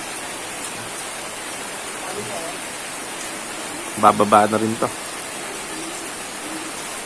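Rain falls outdoors during a sports practice as a steady, fairly loud hiss of noise throughout, with someone briefly speaking over it midway.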